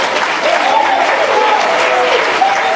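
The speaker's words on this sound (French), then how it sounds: "qu'il faut encore applaudir trop fort." Steady, loud applause from a political rally audience in Côte d'Ivoire, dense clapping filling the whole stretch with faint tonal murmurs and calls mixed in.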